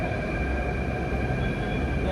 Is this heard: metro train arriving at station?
yes